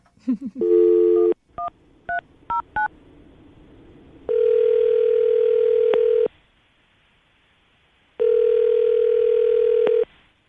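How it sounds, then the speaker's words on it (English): Telephone call being placed: a dial tone, then a quick run of DTMF keypad beeps, followed by two long ringback tones separated by a pause, clear and close with no talking. "I'm going to call him right now and see if we can get him on the phone"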